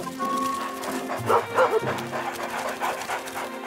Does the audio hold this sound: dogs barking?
yes